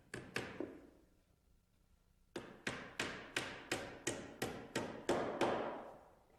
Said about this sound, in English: tack it in place with a small nail